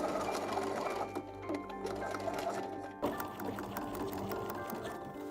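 A sewing machine runs steadily, stitching through gathered skirt layers of a costume gown, its needle chattering in a fast even rhythm close up, with a short break before it resumes.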